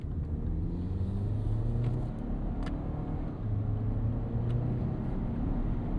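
A 2025 Lexus RX 500h hybrid SUV with a turbocharged T24 engine and Hybrid Max powertrain pulls out into traffic, giving a steady low cabin rumble with a faint engine hum under road noise.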